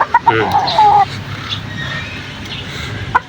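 A skittish chicken gives several sharp, loud clucks and squawks up close, then a quieter stretch with a few more brief calls near the end.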